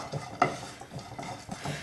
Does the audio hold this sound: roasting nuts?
yes